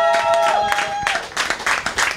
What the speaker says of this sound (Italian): Un grande applauso per Emiliano Ferracuti